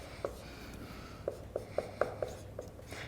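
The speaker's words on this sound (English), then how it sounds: "If I can write that." Pen or marker tapping and scratching out a physics calculation on a board, a series of short separate strokes at an uneven pace over quiet room tone, close and fairly soft.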